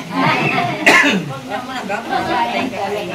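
A sharp cough bursts out amid ongoing conversation, with several voices talking close by before and after it.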